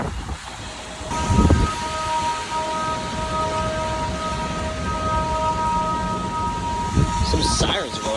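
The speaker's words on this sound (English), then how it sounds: "Heavy rain's just moving in now, you can see it." Heavy rain and thunderstorm in Houston, Texas, with strong wind gusts of about 60 mph, a steady loud roar of rain and wind noise throughout, and a deep rumble of thunder near the start and again near the end.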